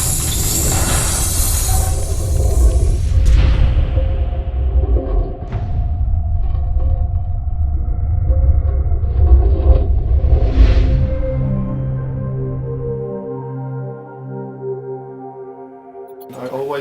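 An ice cracking sound effect of blocks breaking apart, drenched in heavy reverb and layered with deep sub bass, rumbling thuds and cracks that swell and fade into sustained tones, mixed with other musical elements.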